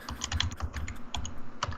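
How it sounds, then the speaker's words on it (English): Someone types on a computer keyboard, giving a quick, irregular run of crisp clicking keystrokes close up, with no speech. "Stop typing."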